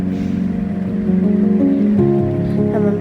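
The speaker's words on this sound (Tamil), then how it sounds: "அதோட புளிக்கரைசல் எடுத்து ஊற்றிக்கலாம்." Tamarind extract pours into a pot of village-style vatha kuzhambu, a close, continuous liquid splash and gurgle lasting about three seconds with no talking.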